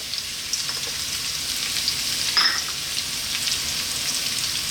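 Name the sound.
ginger and garlic frying on high heat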